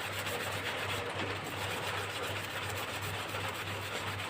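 Steady, continuous sanding of a printed circuit board with sandpaper, an even rasping texture on the hard board surface that keeps going without pause.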